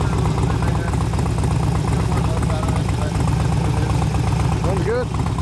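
Engine of a 2004 Harley-Davidson FLHT Twin Cam touring motorcycle idling close by, a loud, even low-pitched lope that runs throughout, with a brief higher squeal near the end.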